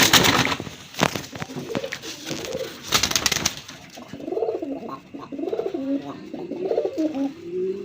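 Native pigeons coo repeatedly from close by in a cage offered for sale, soft rounded calls rising and falling in a steady series after a few brief clattering knocks at the start.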